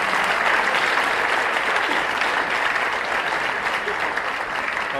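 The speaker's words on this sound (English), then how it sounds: "let's give a big round of applause to all those who have been acknowledged" Audience at a Chamber South business excellence and volunteer recognition awards ceremony applauds steadily, a full room of hands clapping evenly for about five seconds with no speech.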